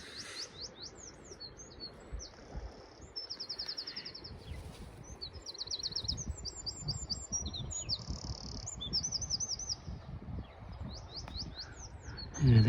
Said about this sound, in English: the old sparrows are down there in the warm, sheltered patch of blackthorn and elders and ivy